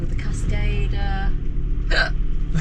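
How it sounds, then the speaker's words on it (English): Hiccups from a traveller in a car heading toward Dunedin, New Zealand: short sharp bursts near the start and a clear louder one about two seconds in, over steady low engine rumble and talk. "I've definitely got hiccups."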